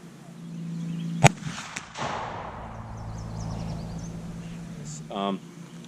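A black powder gun fires a single sharp, loud report that trails into a rumbling echo, with faint voices talking afterward.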